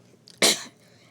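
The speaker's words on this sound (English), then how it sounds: "Recovering from a cough." A single sharp, loud cough from someone recovering from a cough, close and abrupt, with a brief breathy lead-in and quiet afterward.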